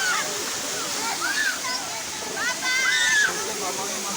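Water pouring from a natural spring at a crowded bathing spot, a steady broadband rush that runs throughout, with voices and bursts of chatter over it.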